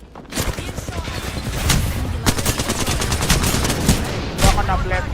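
Rapid bursts of video game gunfire crackle through a busy squad battle, with sharp shots and automatic fire repeating over several seconds, loud and close, while players talk over it.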